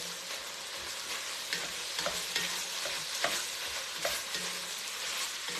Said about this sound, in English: let's stir up our sausage.